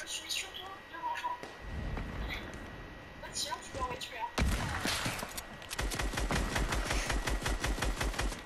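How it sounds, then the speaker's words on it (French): Gunfire in Fortnite while shooting at an opponent: bursts of rapid shots come in from about the midpoint, loud and rhythmic, following quieter chirpy game sounds and movement. "je tire dessus"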